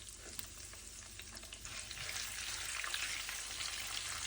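Chana dal and urad dal fry in a pan for spicy lemon rice, a soft, continuous sizzle with light crackles and occasional stirring scrapes, quiet and close, swelling slightly toward the end.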